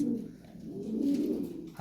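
Lahori fancy pigeons coo in low, rolling murmurs, several birds overlapping in a steady, moderately loud burble close by, with no talking.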